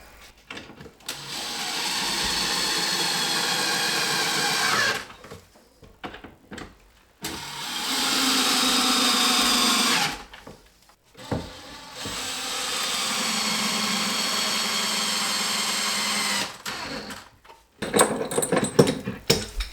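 A power driver tightens screws on new cabinet handles during a salvaged mobile home rebuild, running in three long, steady bursts of about five seconds each with short pauses between them, close and fairly loud.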